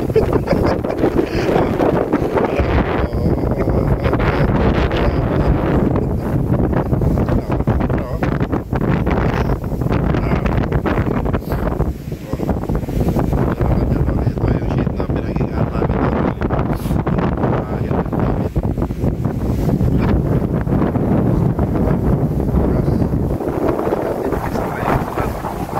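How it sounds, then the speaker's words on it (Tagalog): Strong wind sweeps through the mountains of Benguet, a loud, unbroken rushing roar battering the microphone for the whole stretch with fluctuating gusts and no clear talk. "hindi na makapasok sa Aurelio dahil nga malakas yung hangin"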